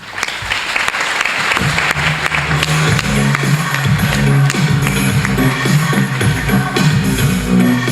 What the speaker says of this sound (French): Je vous invite à applaudir Alison G.